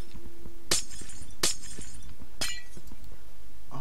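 Glass blocks shattering one after another while mining in Minecraft, three distinct crisp breaking crashes spaced about a second apart, close and loud over a steady background.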